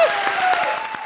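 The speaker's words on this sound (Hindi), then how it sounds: "जोरदार तालियां हो जाएं।" Loud, steady applause from a television comedy show studio audience, a continuous wash of clapping lasting about a second with a sustained tone running underneath.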